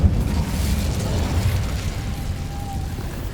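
An Incendio fire spell is cast in Hogwarts Legacy, giving a dense, roaring whoosh of flame that stays steady and loud for about three seconds.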